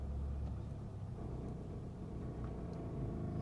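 A 2018 Nissan Sentra SV sits idling after braking to a full stop, its engine giving a steady low rumble with a faint, continuous rattle throughout and no speech.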